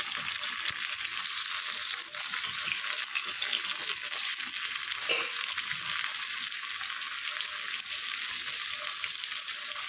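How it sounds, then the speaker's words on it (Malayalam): Coconut oil sizzles and crackles steadily as masala-coated fish fries in a pan, a continuous hiss with small pops throughout. "ഞാനിപ്പോൾ ഇവിടെ മസാല പറ്റി വെച്ച മീനൊന്ന് വറുത്തെടുക്കട്ടെ"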